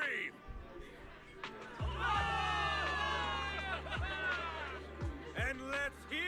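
A game crowd cheers for victory in Zenless Zone Zero, with a broad wash of shouts and whoops that swells loudly around the middle and carries on under a voice speaking over it.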